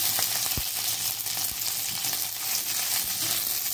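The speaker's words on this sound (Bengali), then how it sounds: "এরপর পেঁয়াজগুলো আর রসুনগুলো ফ্রাই হয়ে গেলে লাল লাল করে লঙ্কাগুলো দিয়ে দিলাম" Onions, garlic and slit green chillies fry in hot oil in a pan for a Bengali kochu flower bharta, a steady bright sizzle with a few soft clicks of stirring and no voices.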